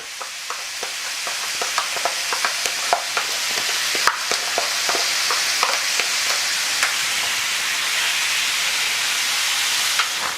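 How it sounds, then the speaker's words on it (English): Salmon and shrimp sizzle loudly on a grill, a bright, steady hiss broken by frequent sharp pops and crackles, close and with no voices. "Let's go ahead and throw on these salmon, these shrimp. So they're gonna have like a grilled look on them"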